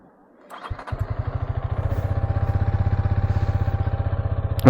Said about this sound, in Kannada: ಒಂದ್ಸಲ ಗಾಡಿ ಸ್ಟಾರ್ಟ್ ಮಾಡಿಬಿಟ್ಟು